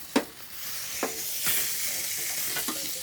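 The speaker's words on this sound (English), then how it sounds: "Get it while it's sizzling." A giant tomahawk steak sizzles on a grill in a quiet, steady hiss, broken by a few soft clicks and scrapes of a utensil.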